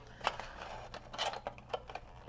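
Scissors snipping paper peelings in small cuts for a dragon egg art project, a quiet, close series of short irregular snips with no talking.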